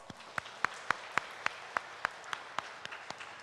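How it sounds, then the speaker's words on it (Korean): A church congregation at a Sunday worship service claps together in steady unison, sharp regular beats roughly four per second over a soft room background. "그 하나님의 영광에 거하심을 우리 모두가 박수로서 올려드리겠습니다"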